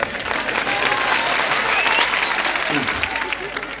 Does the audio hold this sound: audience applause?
yes